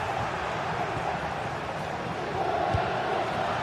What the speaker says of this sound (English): the crowd are doing their bit